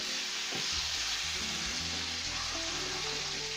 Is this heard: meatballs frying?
yes